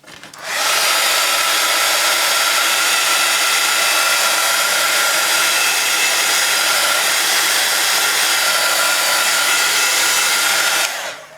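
A hair dryer blasts steadily over freshly inked craft card, a loud, even whooshing roar that starts abruptly, holds unchanged for about ten seconds and then stops.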